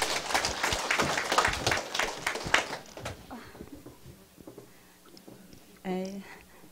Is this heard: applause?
yes